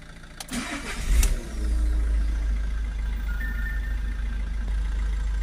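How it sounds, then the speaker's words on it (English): A Citroen Dispatch 2.0 van engine cranks briefly, catches and starts, then settles into a steady low idle close by. "we can start the vehicle up again."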